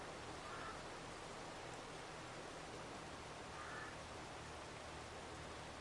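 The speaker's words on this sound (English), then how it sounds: "you can definitely hear the rain" Farming Simulator 22 rainfall, a continuous soft wash of in-game rain with a steady, unchanging texture and no voices.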